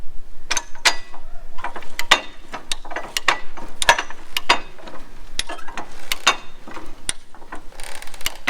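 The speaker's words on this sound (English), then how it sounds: "The ratchet strap is hooked to the board and the jack." A ratchet strap hooked between a board and a jack cranks tight on a garden fence and chicken run build, giving irregular sharp, close clicks in quick bursts across the whole stretch.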